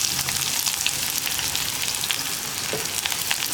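Chopped onion sautéing in a pan for an eggplant stir-fry, a soft steady sizzle and crackle of frying with occasional faint stirring, close and alone.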